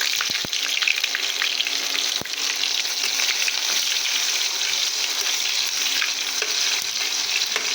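Garlic cloves and chopped onion sizzle steadily in a hot pan, a dense continuous crackle of frying held close and loud throughout, with a couple of sharp clicks near the start and no talking.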